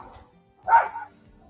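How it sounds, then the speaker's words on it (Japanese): One short dog bark sounds in the middle of an otherwise quiet indoor moment, a single brief yap at moderate distance. "今犬が鳴きましたね。"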